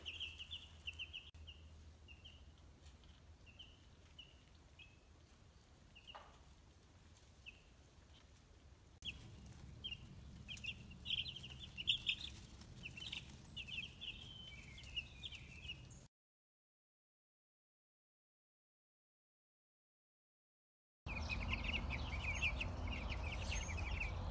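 Two-week-old Cornish Cross meat chicks peep and cluck softly in a repeated high chirping chatter, faint and continuous apart from a brief silent gap.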